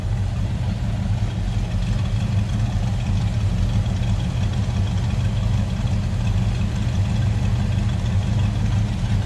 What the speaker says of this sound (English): Nothing crazy over the top or exhaust, just a nice little rumble.